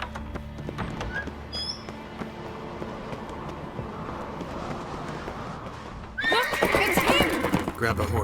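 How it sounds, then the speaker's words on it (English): A horse in The Witcher 3 whinnies near the start, then hooves gallop steadily in a loud, close clip-clop rhythm, with a burst of game voices over the hooves toward the end. "Grab a horse, we'll chase him down."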